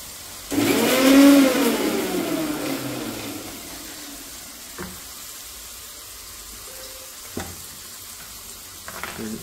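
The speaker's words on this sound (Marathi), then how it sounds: "आता याच्यात आपण सॉल्ट टाकू, नंतर हिरवी मिरची आणि याला ग्राइंड करून घेऊ." Kitchen mixer grinder grinding green chillies with salt for sabudana khichdi, a loud whirring burst that rises quickly then tapers off, followed by a few faint knocks and quiet clatter.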